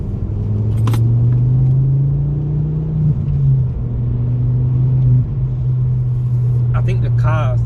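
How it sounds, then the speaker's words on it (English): A Ford Focus ST Mk2 hatchback engine idles and rises in a steady low rumble, revving up and settling, with a couple of sharp clicks and jangles near the start and end. "I think the car sounds really good. I love the way the car sounds."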